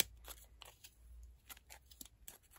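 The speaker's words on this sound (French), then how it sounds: "Et on va pouvoir comme ça découper tout notre pompon" Scissors snip through a yarn pompom in a quick irregular series of crisp close cuts, each a short rasping crunch, with a quiet background and no talking.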